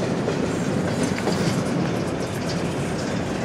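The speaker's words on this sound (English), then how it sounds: "So here we'll watch CSX-9W number 9005 and CSX ES44AH3090 with a friendly crew on board as they will continue south." CSX freight train led by locomotive 9005 with an ES44AH rolling south on the Portsmouth subdivision, a steady close rumble of wheels and cars with rhythmic clickety-clack, continuous and loud throughout.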